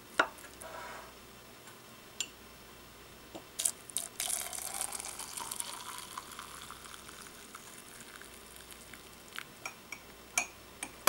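Hot water poured onto honey and lemon in a cup for a cold remedy drink, a brief liquid pour rising around the middle, with small clinks and ticks before and after in a quiet kitchen.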